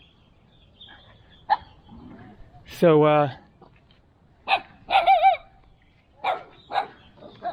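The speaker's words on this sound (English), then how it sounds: "We've got an annoyed dog." A village dog near a road by homes in Indonesia barks in sharp bursts, one long harsh bark then clusters of shorter barks, moderately close, with someone briefly talking.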